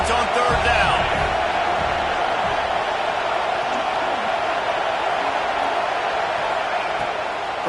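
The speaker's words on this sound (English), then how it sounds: "Decibels rising as the crowd gets behind this defense on 3rd down." Football stadium crowd in a video game, a steady, loud roar of cheering that swells and holds on third down, with a commentator talking over it.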